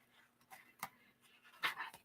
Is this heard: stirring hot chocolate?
no